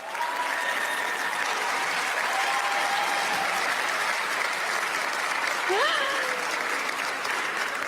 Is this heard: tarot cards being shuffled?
no